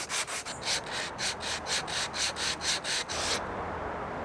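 A wooden tenon on a handle being rubbed back and forth over sandpaper taped to a hard, flat surface, about a dozen steady rasping strokes in close, even rhythm, then stopping abruptly.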